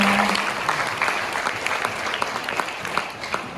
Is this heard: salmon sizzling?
no